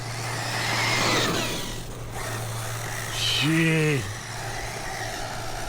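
An Arrma Typhon RC car running on a 6S battery gives a brief high electric motor whine that swells and fades. A man exclaims loudly over it.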